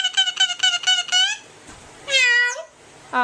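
A yellow-naped parrot imitates a cat, giving a quick run of five short meows, then a longer drawn-out meow and the start of another, close and clear with no talk.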